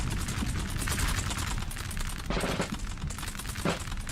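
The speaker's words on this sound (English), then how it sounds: "Now some grenadiers firing through the tree line here." Massed musket volleys from grenadier infantry in the Napoleonic battle game Total War NTW3, a dense, continuous crackle of overlapping shots with a few louder bursts, close and loud with no talk.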